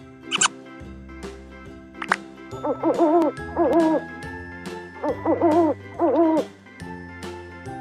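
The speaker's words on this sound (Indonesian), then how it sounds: "Owl, burung hantu." An owl hoots in a series of rounded, wavering calls, grouped in pairs over light background music, clear and fairly loud.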